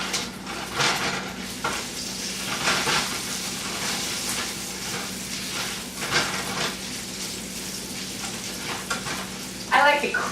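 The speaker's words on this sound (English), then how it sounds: "And my bacon might be burning." Bacon sizzles and crackles steadily in a hot frying pan, a continuous near hiss with occasional sharper spits and a clink of a utensil near the end.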